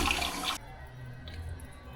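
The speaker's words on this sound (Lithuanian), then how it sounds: "Čia toks biškį daugiau vandens ir paspaudė toks sūkurys" A toilet flushes with a loud rushing swirl of water after its button is pressed, then cuts off abruptly into a quiet, low hiss of refilling water.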